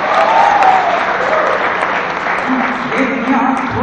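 Audience clapping at a college carnival show: dense, steady applause from a large crowd that fills the whole stretch, loud and close, with faint voices underneath.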